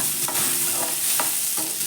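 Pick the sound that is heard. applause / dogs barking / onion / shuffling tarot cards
onion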